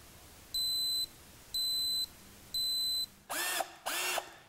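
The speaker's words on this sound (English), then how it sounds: "the battery will start to beep loudly to help you find it" A cordless power-tool battery set off by a phone app's locate function gives three clear, evenly spaced electronic beeps, then two louder, harsher tones, in a quiet room.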